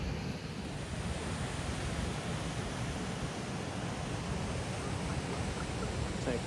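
River current rushes over rocks at Pedernales Falls, a steady, loud broadband roar of turbulent water with no pauses, close and continuous throughout.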